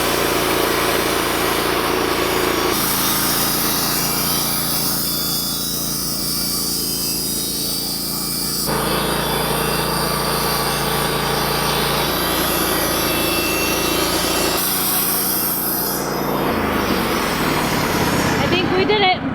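A saw mill cuts a wooden beam down into posts, a loud continuous motor drone whose pitch shifts between blade passes in several distinct sections, running steadily throughout.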